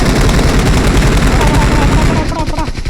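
Rapid bursts of gunfire from the mobile video game PUBG Mobile, loud and continuous, dense automatic shots filling the clip and fading slightly toward the end.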